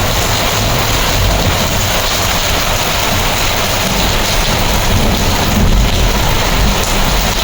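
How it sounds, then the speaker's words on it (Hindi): Heavy rain pours down in the mountains at dawn, a loud, unbroken roar of drops beating on surfaces, with low thunder rumbling beneath it throughout. "बाहर ना इतनी भयंकर बारिश हो रही है"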